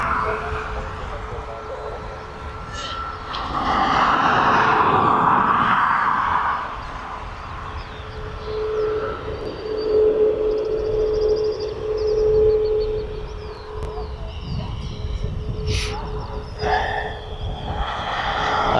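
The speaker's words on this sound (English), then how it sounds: "is the Ryanair 737 MAX 8 going out to Barcelona" A Ryanair Boeing 737 MAX 8 jet departs East Midlands Airport toward Barcelona, its engines making a distant, sustained roar and whine that swells and eases under outdoor ambience.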